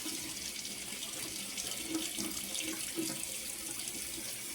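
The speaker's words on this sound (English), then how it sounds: "I'm going to wash my red potatoes." Red skin potatoes are rinsed under a steadily running kitchen tap, a continuous close hiss of water splashing into the sink with faint shifting as the potatoes are turned, no voices.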